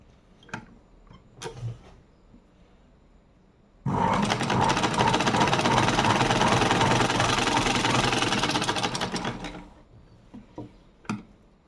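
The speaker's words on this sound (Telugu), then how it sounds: "ఇప్పుడు ఇక్కడున్న ఈ 2 ఎడ్జిల్ని స్టిచ్ చేయాలి, సరేనా? చేసి చూపిస్తాను చూడండి." A sewing machine runs in one continuous burst for about six seconds, stitching two fabric edges while making hair rubber bands, with a dense rapid chatter set between a few quiet clicks before and after.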